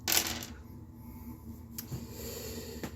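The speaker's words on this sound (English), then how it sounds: "Omniscient rolls all dice." Dice rolled during a tabletop board game, a short clatter at the start followed by a couple of faint later clicks, heard close and alone against a quiet background.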